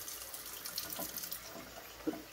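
Cold water runs from a tap into a bowl to rinse freshly churned butter on a farm, a soft steady splashing stream heard close and fairly quiet, with a small clink near the end.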